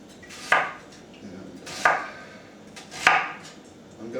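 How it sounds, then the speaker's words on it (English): A knife slices through onions on a cutting board, each stroke landing as a sharp, crisp chop about every 1.3 seconds, four strokes in all, close and fairly loud with no talking. "I'm going to cut these onions kind of small"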